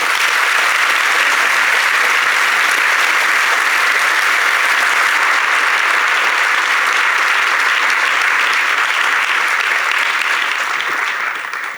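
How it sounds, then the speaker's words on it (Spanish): Applause from the audience at a book presentation, a sustained dense wash of many hands clapping at an even level throughout, loud and uninterrupted, tapering slightly at the very end. "Un aplauso para ellos, por favor."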